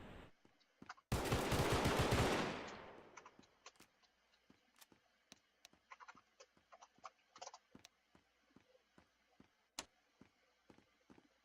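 A gunshot in the Garry's Mod video game: one loud, close burst that decays over about two seconds, followed by a scattered run of sharp clicks and light taps.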